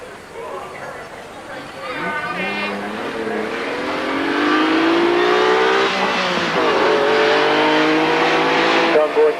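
Racing cars at Pukekohe circuit during a 1982 Porsche Le Mans event, engines roaring and rising in pitch as they accelerate past, loud and close, with a commentator talking over them.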